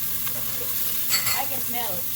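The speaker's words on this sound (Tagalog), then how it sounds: "Put the garlic and the onion and the ginger together." Garlic, onion and ginger sizzle and fry in a pan while being stirred for chicken curry, a steady close crackle with stirring scrapes under a brief spoken remark.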